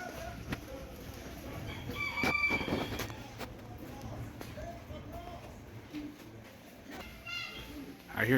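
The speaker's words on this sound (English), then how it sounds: "I hear chickens." Chickens in a small chicken shop in the Sousse medina, Tunisia, give faint clucks and a brief rooster-like call over street bustle, with people talking nearby.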